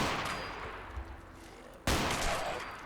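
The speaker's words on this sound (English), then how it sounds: "we're just going to shoot through this window" A gunshot fires through a window in Fallout 4, one loud, sharp blast with a noisy decay over a steady game background.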